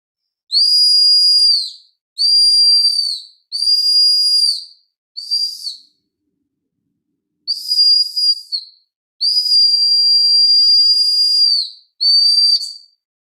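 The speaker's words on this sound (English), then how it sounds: "So you can make a referee whistle using these waste materials" A homemade referee whistle made from waste materials blown in a series of shrill, piercing bursts, some long and steady, some short and fluttering, separated by silent gaps and a longer pause midway, close and loud.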